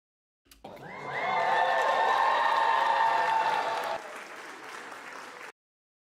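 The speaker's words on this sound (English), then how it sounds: "Which audio track has the better audience clap?" Wedding guests break into applause, a dense crowd clapping that swells quickly, holds steady and loud, then drops to a lighter, thinner patter before cutting off abruptly.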